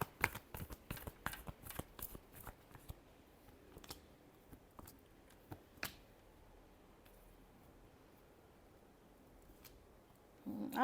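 Tarot cards are shuffled in a quick run of crisp, snapping riffles for the first few seconds, then a few scattered flicks follow before near-silence sets in.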